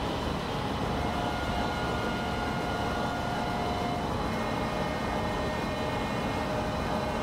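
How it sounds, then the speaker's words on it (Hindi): A WAP7 electric locomotive running on a main line gives a steady, continuous rumble and rail roar with faint tonal whine, loud and unbroken throughout with no talk. "और अब आपको जो साउंड है ये WP7 लोकोमोटिव की वो पता चलेगी।"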